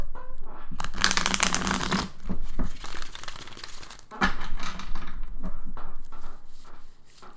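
Tarot cards being shuffled in quick riffling bursts, crisp papery flutters repeating with short pauses between, close and fairly loud.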